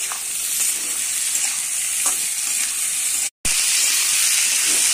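Onions and tomatoes fry in a pan with a loud, dense, hissing sizzle and steam, steady throughout apart from a brief cut to silence, with faint stirring taps and no talk.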